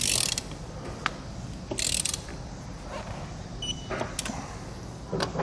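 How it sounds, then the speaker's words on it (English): A torque wrench tightens the wheels on a trailer fitted with a Dexter hub and drum assembly, giving several sharp mechanical clicks and ratcheting bursts spaced a second or two apart over a steady background hiss. "We can then go back and torque our wheels to the manufacturer's specifications."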